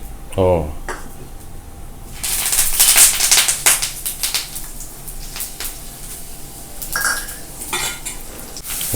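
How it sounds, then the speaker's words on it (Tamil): Poha is stirred with puliyodharai spice powder, a tempering of mustard seeds, urad dal, curry leaves and roasted peanuts, in a metal pan. A spoon scrapes and clatters against it in bursts, with a light background sizzle. "புளியோதரை பொடி போட்டு கலக்கிடுவேன் இல்லையா?"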